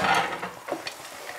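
Dried fruits being stirred and coated in sugar syrup heated to 115 degrees, for mendiants: a short burst of scraping and clattering stirs with a soft sizzle, close and fairly quiet, no voices.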